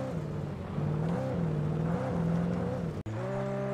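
A car in Alan Wake Remastered driving along with a steady engine drone that rises and falls in pitch, then cuts out briefly and resumes at a constant hum.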